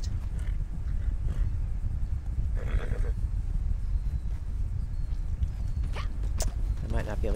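Horse in the video game Fallout 76, with scattered hoof clatter and brief whinny-like bursts over a loud, constant rumbling game ambience.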